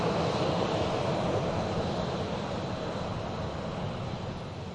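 An aircraft at Manchester Airport gives a steady, broad engine roar that fills the whole stretch and fades slightly toward the end, with no voices.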